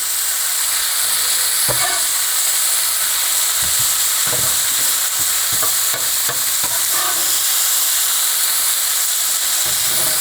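Pizza hitting a hot pan and sizzling steadily, with a constant frying hiss and several short scraping or clattering bursts over about ten seconds.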